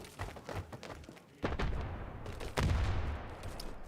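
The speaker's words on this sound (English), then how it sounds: "Just an exchange of nades." Two grenades burst in a Standoff 2 esports match, one after another with deep booms, over a busy backdrop of scattered gunfire and game noise.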